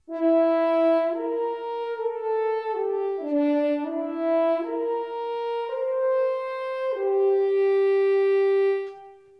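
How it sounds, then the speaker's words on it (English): Legato horn section from the BBC Symphony Orchestra Pro sample library, playing a smooth connected melody of held notes that rise and fall over several seconds, warm and steady before a clean release, with no talking. "the legato articulation here. Let me show you what that sounds like."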